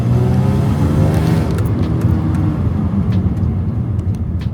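A Lexus IS200 fitted with a throttle body mod drives on a test drive, its engine note loud and close, rising in pitch as it accelerates, then settling into a steady whir.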